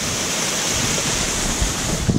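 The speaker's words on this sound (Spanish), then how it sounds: "Miren esta cascadita." A small waterfall and river along a forest trail rush in a constant broadband roar, loud and close, with a few brief thumps near the end and no talking.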